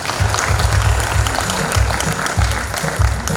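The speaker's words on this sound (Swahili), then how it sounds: "let's put our hands together for all the speakers as we wait for the next speaker" An audience at a Tanzanian human rights defenders anniversary event applauds the speakers, with dense, loud, sustained clapping that pulses slightly throughout.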